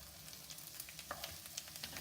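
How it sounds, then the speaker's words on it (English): Onions sauté in a pan for a Momordica cymbalaria (kakarakai) gravy, a soft, even sizzle with small pops throughout, quiet and close with no voices. "saute it a little bit until the color of the onion changes"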